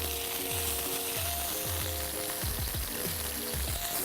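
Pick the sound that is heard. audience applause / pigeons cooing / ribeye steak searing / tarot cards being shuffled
ribeye steak searing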